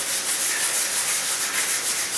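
Black tar mastic is scrubbed off a floor in a continuous, rhythmic back-and-forth scouring, close and fairly loud, with no voices.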